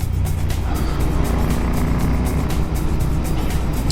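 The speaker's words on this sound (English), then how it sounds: "I love the sound of these tech bike pipes. They're the tech bike Canon silencers" A Royal Enfield Interceptor 650 motorcycle with Tec Bike Cannon silencers gives a steady, deep, continuous exhaust drone while riding, loud and even throughout with no speech.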